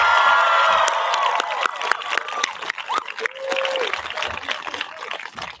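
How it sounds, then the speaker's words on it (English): Crowd applause and cheering at the Mystic Valley Regional Charter School class of 2026 graduation ceremony, a loud, dense wash of clapping that holds steady and then turns more scattered, with voices calling out over it. "Can we get a huge round of applause for the intelligent, dedicated, compassionate, talented Mystic Valley class of 2026?"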